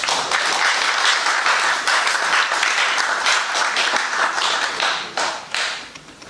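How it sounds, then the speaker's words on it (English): An audience welcomes Professor Pierre-Emmanuel Roux to a lecture with a full round of applause, dense sustained clapping from many people that fades slightly near the end. "let's welcome Professor Roux with a big round of applause"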